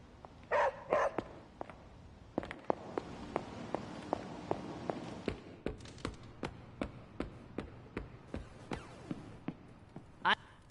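A dog in the PS5 game Midnight Suns gives two quick barks near the start, followed by a long run of steady, evenly spaced footsteps over a low background.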